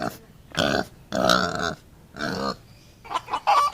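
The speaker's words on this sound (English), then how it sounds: "pig" A pig grunts in a series of short, rough, throaty bursts, four or five close grunts separated by brief pauses, with no other sound.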